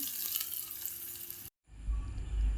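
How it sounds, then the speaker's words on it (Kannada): A hot tempering of red chilli and curry leaves hits gojju made from vegetable peels with a steady crackling sizzle, then cuts off briefly before a softer, deeper bubbling takes over, with no voices. "ಒಗ್ಗರಣೆ ರೆಡಿಯಾಗಿದೆ ಇದನ್ನು ಅದಕ್ಕೆ ಸೇರಿಸ್ಕೊಳ್ತಾ ಇದ್ದೀನಿ"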